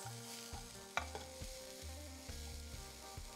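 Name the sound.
bell peppers tossed in a hot pan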